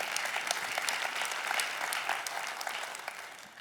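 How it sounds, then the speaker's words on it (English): Listeners at a political speech event clap together in a moderate, fairly distant burst of applause that holds steady for a few seconds and then begins to fade. "You can clap for grace."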